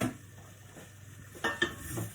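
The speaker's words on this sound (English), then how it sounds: "if we hear the onion starting to sizzle a bit, just give them a little turn around in that oil" Quiet kitchen ambience with faint sizzling of onions in oil and a few clinks and stirring scrapes of a utensil against a pan.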